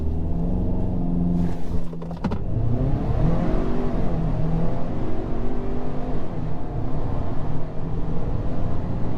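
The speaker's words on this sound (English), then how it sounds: "All right, we're gonna brake torque it. Traction is off." A 2022 Ford Maverick Lariat pickup idles, then its engine is revved hard while brake torquing with traction control off, a loud, close rumble that climbs and holds in pitch after a brief clunk.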